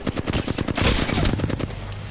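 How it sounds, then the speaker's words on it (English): Rapid automatic gunfire in the battle royale shooter Apex Legends, a fast rattling burst that runs straight into heavier overlapping shots, loud and close throughout the brief moment. "Hostile. They're shooting at me."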